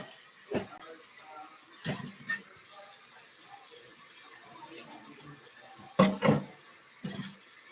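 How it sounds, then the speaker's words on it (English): Cold tap water runs steadily into a kitchen sink to rinse canned beans, a soft continuous hiss with a few brief clunks and splashes scattered through it. "Rinse it with some cold water, like until you see it draining out clear."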